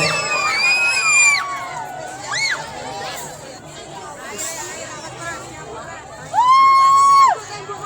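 A crowd at the Keboan traditional ritual in Aliyan, Rogojampi, Banyuwangi shouts and cheers in bursts, with children's high whoops and rising yells over a steady outdoor babble, ending in one loud sustained shout.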